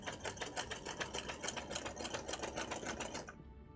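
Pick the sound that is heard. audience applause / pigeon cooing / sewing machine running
sewing machine running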